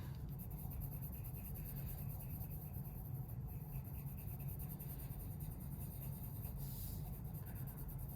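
Pencil coloring on paper, slow and neat strokes in one direction, a faint steady scratchy rubbing heard close up and alone.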